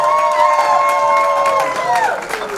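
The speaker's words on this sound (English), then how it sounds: "keep the applause going as we welcome Sherilyn Williams Case" An audience at a household workers awards ceremony keeps clapping and cheering as an honoree is welcomed, with crowd noise and a voice or music line drawn out over the brief, moderately loud stretch.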